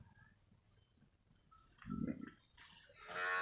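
A Simmental cross bull on a traditional cattle farm gives a single deep low moo midway through, fairly close, amid faint farmyard background noise and a brighter rising sound at the end.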